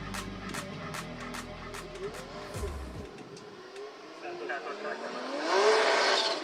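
A Toyota GR86 drift car on a Formula Drift qualifying run at Ebisu, Japan, its engine revving and note sliding as tires squeal, heard at moderate distance with a commentator talking over it and a louder screech near the end.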